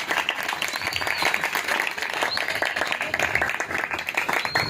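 A church congregation claps loudly and steadily during an Urdu-language sermon, dense applause filling the room from start to finish with no break.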